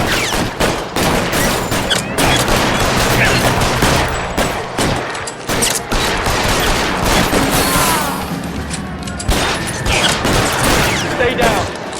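Rapid gunfire crackles through a shootout at the Nicholson Electroplating plant in L.A. Noire: dense, loud volleys of shots and bursts over twelve seconds, with shouting voices mixed underneath.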